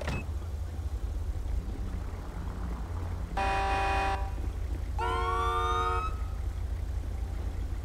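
An ambulance siren in GTA V with the LSPDFR police mod, sounding in two short bursts of electronic wail and yelp over a steady rumble of idling engines at a traffic scene.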